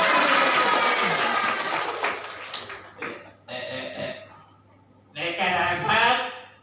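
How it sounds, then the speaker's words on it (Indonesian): Audience applause at a teachers' workshop and program closing, broken into short bursts of clapping mixed with laughter and chatter, fairly close and lively. "Tepuk tangannya dong."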